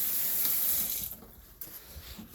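Water streams from a tap into a pot for turkey broth, a loud steady splashing rush that cuts off midway and leaves a few faint drips and clinks.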